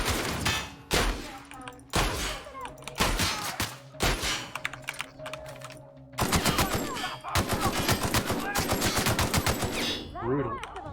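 A sawed-off shotgun firing in The Outer Worlds, sharp repeated blasts in rapid bursts mixed with other gunfire and game combat noise, close and loud, with a brief voice near the end.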